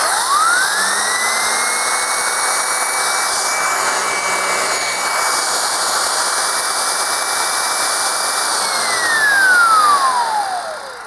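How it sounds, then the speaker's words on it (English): Shark Navigator Lift Away upright vacuum with its turbo brush running: a loud, steady high whine that rises in pitch at switch-on, holds level for several seconds, then falls away as it winds down. "So the higher pitched this turbo brush is, the more suction the vacuum has."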